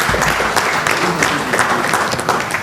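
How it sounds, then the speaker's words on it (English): Loud, dense applause from an audience after a tax seminar session, a continuous rush of many hands clapping together with a low rumble of room noise underneath, steady from start to finish. "So the loud round of applause clearly"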